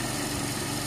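Kawasaki Fury 125 motorcycle engine idling steadily during carburetor tuning, a continuous close buzzing drone with no voices.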